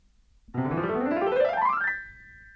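A keyboard glissando sweeps rapidly upward through many notes, then settles on a sustained chord that rings on with the pedal held.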